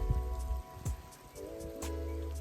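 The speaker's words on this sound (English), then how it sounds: "And it's raining." Steady rain falling outdoors at the end of a day of mulching and garden bed edging, a soft continuous patter with a few louder knocks and bumps, and no talking.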